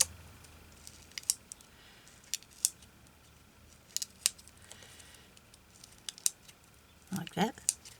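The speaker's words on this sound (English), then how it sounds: "So you just cut in and snip it out." Scissors snipping paper during journal crafting, with sparse sharp little cuts scattered over several seconds and a quick cluster of snips near the end, close and quiet against a soft background.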